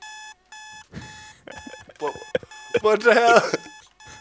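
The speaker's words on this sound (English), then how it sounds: "Why is it beeping?" Repeated electronic beeps in the game Minecraft sound in a steady on-off pattern while a man exclaims in surprise over them.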